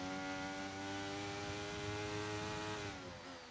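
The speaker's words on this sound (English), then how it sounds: "We just get some nice, relaxing engine noises." Formula 1 car engines in an F1 video game drone with steady high-pitched harmonic whine, several cars layered together, continuous and loud, with a slight pitch shift near the end.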